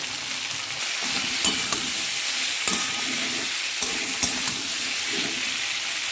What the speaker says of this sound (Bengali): তরকারিটা ভালো করে কষে নেব